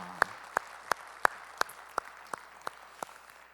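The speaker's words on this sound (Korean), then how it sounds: "우리 찬양을 받으신 주님께 영광의 박수 올리겠습니다." Congregation clapping in a church service after a sung hymn, heard as about nine sharp, evenly spaced claps in a steady unison rhythm, fairly quiet and without talk.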